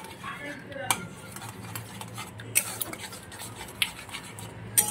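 Two eggs being stirred in oil in a pan, a utensil scraping and clinking against the metal in irregular strokes with sharp taps at intervals, over a quiet steady background.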